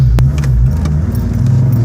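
A small weekend project car's engine revs hard and close, a steady low rumble with rising pitch that holds loud through the whole moment, with no voices over it.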